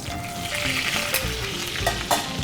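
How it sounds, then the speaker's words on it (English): Steak searing in scalding hot fat that is basted over the top: a loud, close, continuous crackling sizzle with brief bursts as the fat is spooned, and no speech. "And by doing this, I'm also cooking the steak from the top and bottom at the same time."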